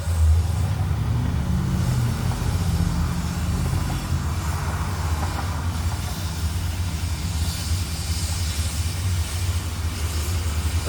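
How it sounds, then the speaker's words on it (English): Steady traffic on a road around 9:45, with cars rolling past continuously in a broad low rumble that stays fairly loud and even, no single pass standing out and no voices. "There's a lot of people out here driving around,"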